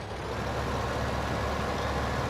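Vehicle engine in the game Farming Simulator, a steady, dense droning rumble that holds at an even level throughout with no talk over it.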